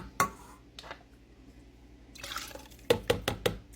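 Broth pours into a soup pot for bean and ham soup, a soft liquid splash followed by a few sharp clinks and drips, close and fairly quiet.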